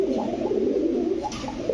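Pigeons at a farm keeping Teddy, Lahori and Bombai breeds give a brief, soft, throaty coo close by, a low rolling call over a short span.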